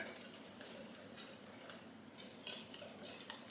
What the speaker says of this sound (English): Now we're gonna whisk all of the 3 dry ingredients together.